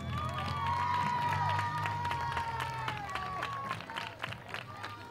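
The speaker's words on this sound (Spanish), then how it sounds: "¡Fuerte aplauso!" Crowd applause and cheering for the president of Club Recreativo Puente Mayorga at a team presentation event, a steady dense wash lasting throughout, with a whistled or tonal line running over it and fading slightly toward the end.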